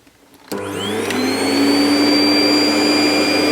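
A Hoover Purepower Green Ray bagged cylinder vacuum cleaner switches on abruptly after a quiet moment, then runs with a loud, steady whoosh and a rising whine that settles into a sustained high note.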